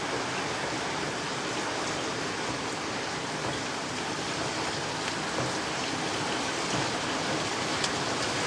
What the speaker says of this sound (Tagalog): ang lakas ng ulan dito guys, sa totoo lang